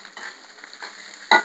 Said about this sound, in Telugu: అన్నం వేస్తున్నా